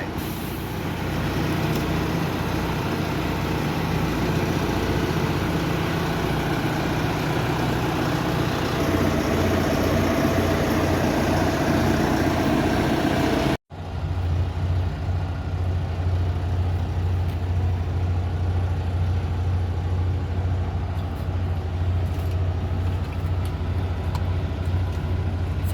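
Farm tractor engine idling close by, a continuous low diesel rumble with a steady throbbing beat, briefly cut off midway before resuming at the same even idle.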